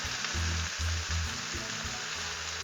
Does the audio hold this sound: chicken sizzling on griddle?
yes